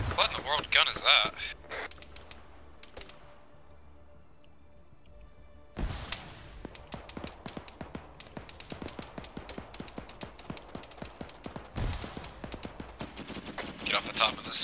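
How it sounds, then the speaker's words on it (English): A heavy gun fires in Arma 3: dense, rapid cracks of automatic fire start after a quiet stretch and continue steadily, some shots close and loud, others more distant, with people talking over the shooting. "What is that gun? It's a heavy gun."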